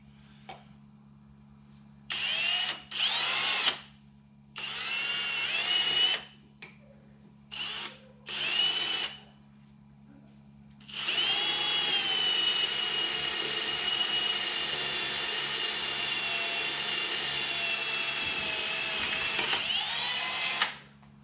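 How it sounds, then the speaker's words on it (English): A power drill drills into metal on a Honda TRX300 4WD quad chassis, whirring in several short bursts, stopping and starting, then running continuously for a long stretch over a low steady hum. "I'll give that a drill"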